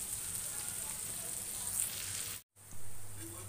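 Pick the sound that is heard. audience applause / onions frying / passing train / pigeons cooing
onions frying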